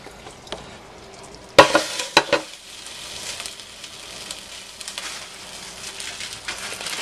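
A pan of liquid for chocolate fudge being stirred: a few sharp knocks and scrapes early on, then steady close swishing and scraping against the pan that continues to the end, with no talk.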